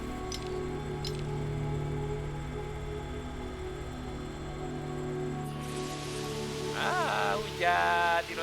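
Rain falling in a Jurassic World video game, a steady soft patter throughout with a short electronic chirping sound near the end.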